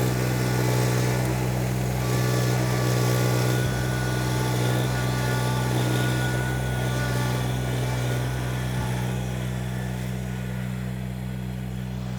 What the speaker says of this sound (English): And you can hear the little Kubota. That is 26 horsepower, but it's still making it grunt a little bit.